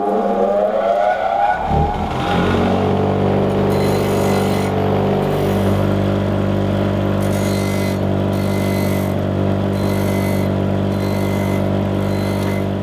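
A grinder removes the back corner of a chainsaw cutting tooth during sharpening. The motor spins up over the first two seconds, then holds a loud, steady mechanical whine with grinding noise throughout, and no voice is heard.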